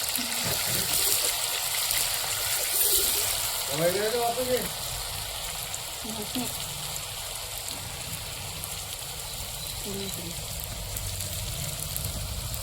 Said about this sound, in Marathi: कांदा पेस्टला थोडं परतून घेऊ.